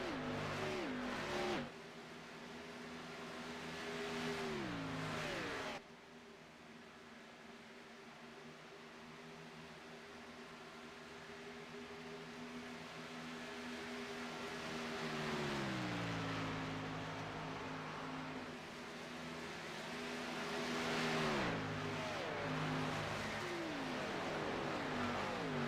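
Stock cars in a superspeedway racing video game at Talladega idle along in a pack behind the pace car, a steady low engine drone with pitch shifts as cars rise and fall in revs, continuous and fairly close.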